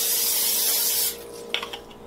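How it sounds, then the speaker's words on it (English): Olive oil sprays onto a cake pan in a dog birthday cake recipe, giving a steady, close hiss that stops after about a second, followed by a few light handling knocks. "lightly spray it with olive oil"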